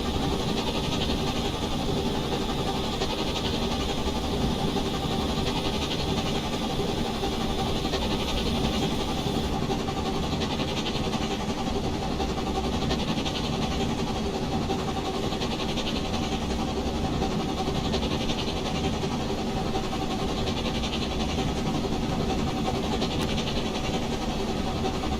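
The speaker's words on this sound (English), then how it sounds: "Can't beat the sound of listening to an engine hard at work" A steam locomotive in a railway simulator game working hard on the North Pole Railway, with a steady, continuous rumbling engine and rhythmic chuffing pulses held at an even, loud level throughout.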